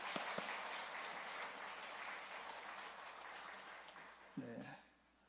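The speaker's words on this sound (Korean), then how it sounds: "그때 박수 한번 쳐드리죠" A church congregation gathered for a revival service claps together in a sustained round of applause that fades out near the end, with a brief voice over it.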